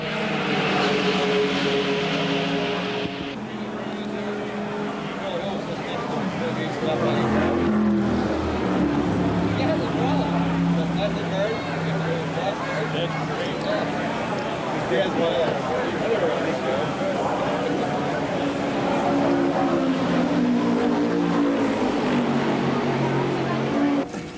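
A Chaparral Can-Am race car with a 3-speed automatic transmission drives at Road America, its engine droning and shifting pitch steadily for the full length, loud and close, with a voice talking over it.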